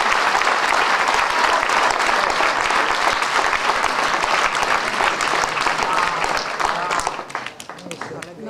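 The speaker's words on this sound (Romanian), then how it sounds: "Aplauze pentru." Loud, sustained audience applause at an honorary citizenship ceremony in the Romanian town of Bușteni, dense clapping from a crowd that fills most of the clip before thinning out near the end.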